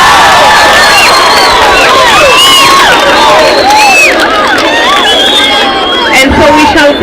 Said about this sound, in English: So please let us welcome her with our warmest clap.